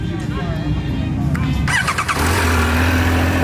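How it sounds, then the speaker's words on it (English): A Triumph Speed Triple 1200 RR motorcycle cranks and fires up with the clutch pulled in, its starter whir turning into a steady, close engine idle. "You got to pull the clutch in order to start it, but there it goes."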